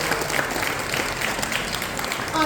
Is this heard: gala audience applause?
yes